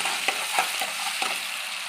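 Asafoetida (hing) dropped into hot oil already tempered with whole cardamom, cloves and cinnamon, giving a close, steady sizzle and fry with a few light stirring scrapes and taps, no voices.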